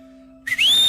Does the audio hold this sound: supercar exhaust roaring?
no